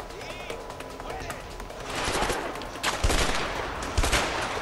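Rapid bursts of gunfire in the video game A Way Out crackle repeatedly, growing louder in the second half, with voices talking underneath.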